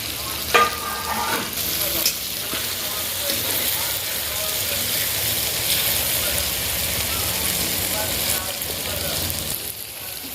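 Onion, tomato and capsicum are sautéed in a pan for masala macaroni, giving a steady, close sizzle with occasional scraping stirs and a couple of sharper knocks near the start.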